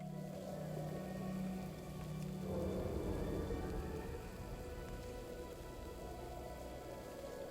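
Steady rain falls in the Krasrang Wilds zone of World of Warcraft, a dense, even hiss with a low rumble beneath it, holding at the same level throughout with no voices.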